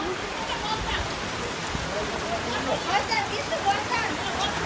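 Heavy rain pours down in a steady, dense hiss, with people's voices audible in the background.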